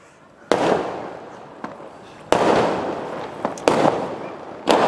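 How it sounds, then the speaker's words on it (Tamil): Several sharp firecracker blasts go off, each followed by a crackling, hissing burst; loud and close, spaced irregularly across the clip. "வெடி."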